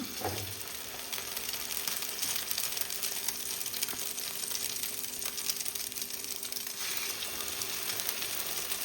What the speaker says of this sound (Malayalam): എണ്ണ ചൂടായി വന്നിട്ടുണ്ട്. ഇനി നമുക്കിത് അതിൽ ബ്രെഡ് ഇങ്ങനെ മുക്കിയിട്ട് വെച്ചെടുക്കാം